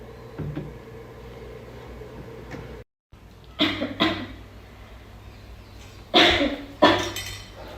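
A few sharp coughs, two pairs of harsh bursts separated by quiet moments, close to the microphone in a still room.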